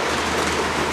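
A small HO-scale model train rumbles steadily along its track on a layout with a continuous close whirring and clatter, no voices.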